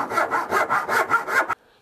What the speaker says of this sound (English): just trim it with the dovetail saw